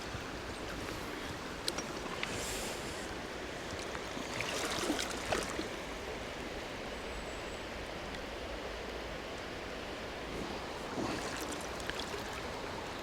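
A cold river stream in winter after a flood, swollen with snowmelt, producing a steady broadband rushing and gurgling close by, with a few brief splashy surges and no speech.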